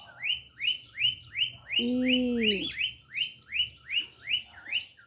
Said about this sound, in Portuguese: Passarinho, vocês já sabem. Vai ter que ficar com barulho.